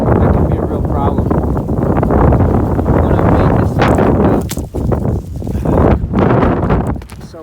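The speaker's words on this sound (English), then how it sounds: "It's so windy." Strong winter wind buffeting the microphone outdoors on open land, a continuous loud roaring rumble with gusts rising and falling, and someone talking over it.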